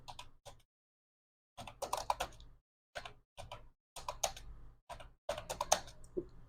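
Computer keyboard typing while entering data in an Excel spreadsheet, with close, quiet bursts of rapid key clicks broken by short pauses.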